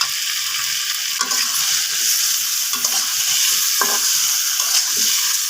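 Potatoes and meat fry loudly in a pan, with a dense, steady sizzle broken now and then by spatula scrapes as the pieces are stirred.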